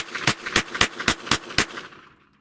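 Glock G44 pistol firing copper .22 long rifle rounds, six sharp cracks in quick, fairly even succession, loud and close, ending in a short fading tail.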